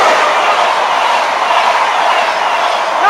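An East Coast train bound for Edinburgh passes through Newark North Gate station at speed. A loud, steady roar of wheels and rushing air fills the whole stretch close by, with no voices.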